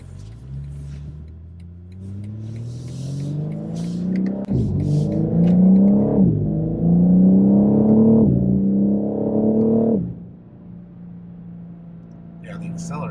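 A 2024 BMW M4 Competition xDrive accelerates through several gears, its engine note rising steadily in loud, close pulls with brief dips at each shift, then settling to a steady cruise.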